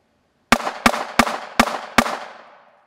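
Five rapid gunshots from an ISSC M22 .22 target pistol crack out outdoors at an even pace, sharp and loud, with the last shot ringing off in a fading tail.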